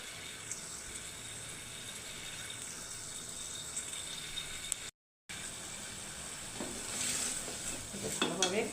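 Bitter gourd and potato stir-fry in a pan with a low, continuous sizzle. Utensil stirring and scraping grow busier toward the end, and the sound cuts out briefly partway through.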